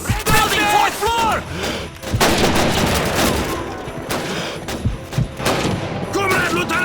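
An MG42 machine gun fires in the Call of Duty 2 video game during a Stalingrad battle, with sustained rapid bursts, scattered gunshots and thuds, while soldiers shout over the loud chaotic firefight.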